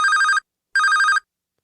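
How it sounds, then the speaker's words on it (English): A telephone rings twice while a call is being placed, two loud, clean electronic bursts with a short gap between them and silence after, no talking. "I got to call Idris live this time"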